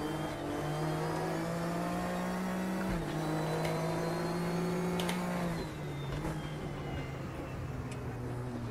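A GTO race car engine in the RaceRoom racing game drones steadily and loudly, its pitch easing down slightly partway through with a brief dip, running alone without talk.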